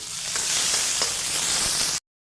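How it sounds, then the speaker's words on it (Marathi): Finely chopped onion with curry leaves and a little asafoetida sizzles loudly and continuously in hot oil, with faint stirring ticks inside the hiss before it cuts off abruptly. "मग याच्यामध्ये चिरलेला कांदा घालायचा बारीक चिरलेला कांदा सगळं परतून घ्यायचं"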